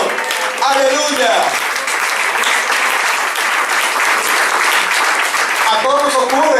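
A Sunday church congregation bursts into loud, dense applause, sustained clapping in praise with a voice speaking over it at the start and end.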